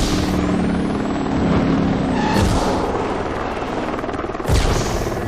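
Helicopter in the video game Driver: San Francisco, a loud continuous rotor and engine roar filling the scene, with a couple of heavy thumping impacts around the middle and end.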